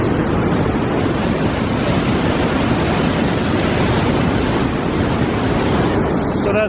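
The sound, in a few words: Triberg waterfall rushing water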